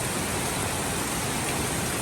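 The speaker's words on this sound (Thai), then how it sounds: "ฝนตกหนักมาก" Heavy rain pours down steadily in Phu Sing district, Sisaket province, Thailand, a dense, even hiss with no pauses and no voices.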